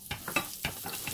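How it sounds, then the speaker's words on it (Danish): Garlic sizzles and crackles in hot oil in a frying pan, a steady close hiss broken by small rhythmic spatters, with no talking. "Olie er varmt nok, så skal jeg pytte hvidløg i."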